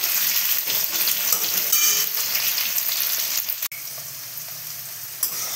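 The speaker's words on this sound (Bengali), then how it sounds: "এটা একটু সময় লাগবে, কলাটা ভাজতে হবে তো।" Bitter gourd pieces frying in oil at home, a loud, even sizzle running throughout with light stirring and one sharp knock partway, close up and without voices.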